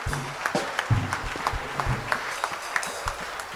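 A church congregation claps and cheers during a Sunday worship service, with sharp irregular hand claps and scattered shouts spread through the room at moderate loudness.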